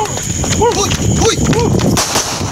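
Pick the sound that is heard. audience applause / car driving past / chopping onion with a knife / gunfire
gunfire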